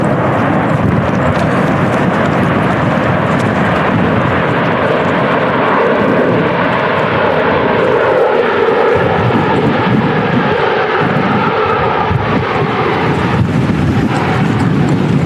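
Ryanair airliner landing at Manchester Airport in strong storm crosswinds, a steady loud roar of jet engines mixed with gusting wind noise on the microphone, continuous throughout with no talk.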